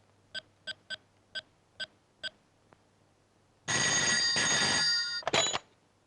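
A telephone rings for an incoming call, six short evenly spaced electronic rings, followed by a burst of loud, dense background sound after a pause.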